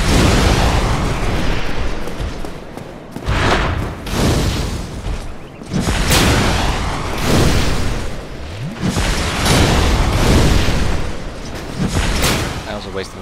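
A fireball spell blasts in Dark Souls, a loud booming explosion with a deep rumbling body, set among other heavy in-game impacts and clashes, with a voice talking over the action.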